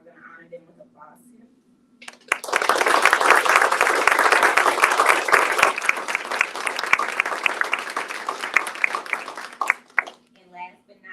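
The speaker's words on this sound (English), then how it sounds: "we're gonna honor them with applause." An audience at a breast cancer awareness event breaks into a burst of dense clapping that lasts about eight seconds, bracketed by a person speaking before and after.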